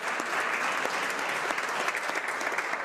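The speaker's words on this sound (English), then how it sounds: "I invite all the members of the House to join me in a round of applause for Dr." Members in the House of Commons applauding award winners, an even, continuous patter of many hands clapping at moderate level throughout.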